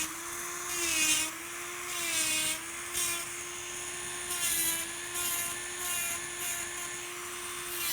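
Electric nail file buffing pink and white acrylic nails, a close high-pitched whine that swells and dips in short bursts as the bit presses on and lifts off, fairly quiet.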